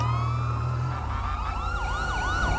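Police car siren wailing in the game GTA 5, a steady rising-falling yelp that carries across the whole stretch over a low engine rumble, loud and fairly close, with no one talking.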